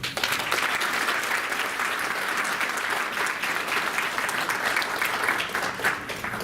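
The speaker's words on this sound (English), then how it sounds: "let's give a big round of applause for the beginning" An audience applauds steadily throughout at a talk in Houston, dense clapping from many hands filling the room without pause.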